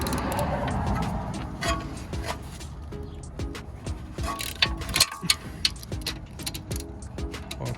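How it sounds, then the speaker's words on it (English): A 13mm socket wrench loosening rear brake caliper bolts on a Volkswagen, with close metallic clicks and ratchet ticks over a low background hum and a few sharp knocks near the end. "So now we're gonna remove these two bolts"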